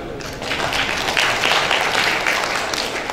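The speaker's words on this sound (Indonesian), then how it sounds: "Silakan tepuk tangan." A crowd claps steadily for a few seconds at an anniversary event in Lampung, a dense wash of applause heard from within the room.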